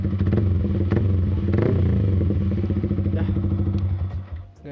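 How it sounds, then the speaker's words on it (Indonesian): A Yamaha R15 V3 with a Proliner full-system exhaust idles loud and close, then gets a couple of blips of the throttle, with a deep, rumbling pulse that drops off as the engine settles back near the end. "Kita geber dikit ya."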